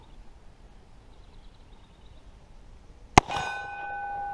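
A bullet from an 1861 Colt Navy revolver strikes a metal target downrange, one sharp distant clang that rings on with a sustained metallic tone after a quiet stretch.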